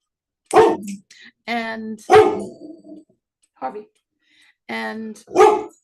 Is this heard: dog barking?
yes